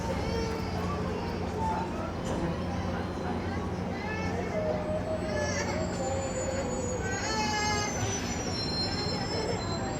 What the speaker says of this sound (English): we'll watch this train roll in